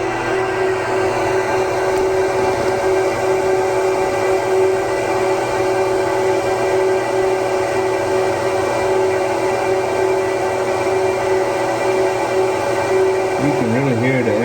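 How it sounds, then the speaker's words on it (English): The fans of a 2009 Apple Xserve server pull air through the chassis in a warm room, a loud, steady whooshing roar with a constant tonal whine. A brief wavering tone enters near the end. "You can really hear the air being sucked in through there."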